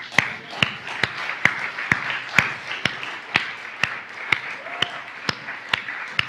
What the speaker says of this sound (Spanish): Vamos a darle un aplauso a nuestro Dios